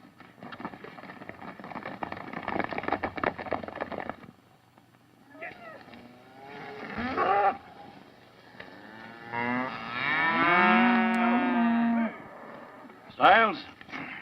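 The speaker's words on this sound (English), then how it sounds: "Put the cattle on the bedding ground." Cattle on an open range in a 1936 Western moo loudly and at length near the end, after a stretch of shuffling noise and brief low calls, with a voice heard over the herd.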